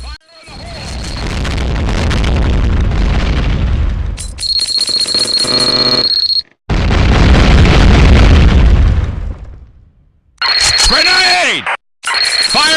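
Grenade blasts in the first-person shooter Combat Arms: loud, sustained booming explosions fill most of the stretch, broken by short gaps, with a shouted voice and ringing game effects between bursts.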